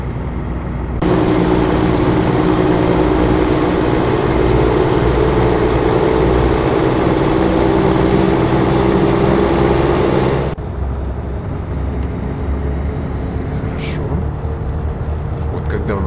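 Truck engine in American Truck Simulator, a steady loud diesel drone with a high whine, cutting to a quieter cab rumble partway through; no talking.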